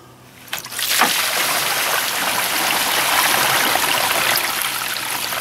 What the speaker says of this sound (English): So let's go outside and flush it.